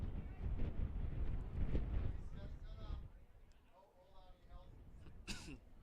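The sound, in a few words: wind howling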